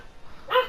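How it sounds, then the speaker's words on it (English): A pet dog gives a short, sharp bark near the end, fairly close and alone over a quiet room background. "Just the most annoying thing in the world is when he barks"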